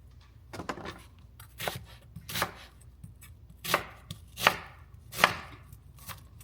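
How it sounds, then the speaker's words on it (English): A knife slices a quarter of a large onion on a board, a handful of separate crisp cuts at an uneven pace, quiet and close, with no voices. "I have about 1/4 of a big onion. So that is what I'm going to slice up"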